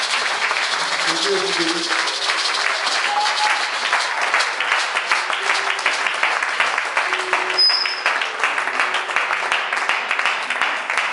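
A church congregation gives loud, sustained applause with steady clapping throughout. A voice speaks over it.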